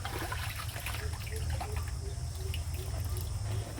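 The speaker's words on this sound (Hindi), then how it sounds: "पानी" Water pours and trickles in a steady, fairly quiet stream over a low background hum, with no talking.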